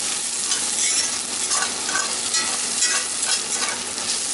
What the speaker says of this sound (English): Nothing like cooking in the cast iron pan.